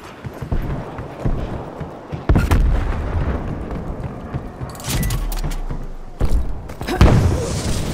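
Gunfire in the online multiplayer shooter Call of Duty: Black Ops Cold War, with sharp loud bursts and thuds breaking through a busy, rumbling game mix over several seconds.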